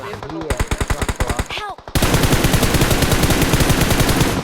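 Automatic rifle fire in the mobile battle-royale game PUBG Mobile, rapid sharp bursts of shots in quick rhythmic succession, loud and close, growing denser and continuous in the second half.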